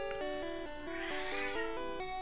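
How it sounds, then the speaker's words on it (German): A cat meows repeatedly in a steady stepped series of calls, close and fairly loud, heard alone without talk. "Und meine Katze miaut mich hier die ganze Zeit an."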